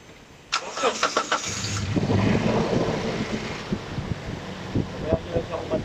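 A car engine cranks and starts, then settles into a steady idle so the power steering fluid circulates, heard close with a rumbling, windy texture and a person talking over it.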